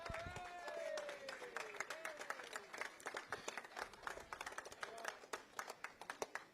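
An audience claps and applauds at an esports league championship award ceremony, a moderate, uneven patter of many hands with a quieter announcer voice at the start.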